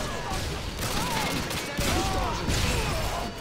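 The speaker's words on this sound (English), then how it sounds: "Oh, of course I get sniped." Gunfire in Call of Duty Modern Warfare 2 during a Ground War match on the Terminal map, loud shots and crashing impacts mixed with whistling game effects, with someone talking over the action.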